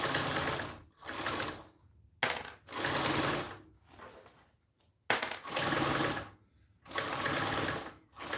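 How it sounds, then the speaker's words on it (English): A Yamata 1341 industrial walking foot sewing machine stitches in loud, close bursts of rapid needle clatter, separated by brief pauses, with no talking. "This is a Yamata 1341. It is an industrial machine. It is a walking foot."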